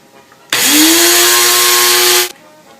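Electric grinder whirring through poppy seeds in a kitchen, one loud, steady high-pitched burst lasting about two seconds that starts and stops abruptly.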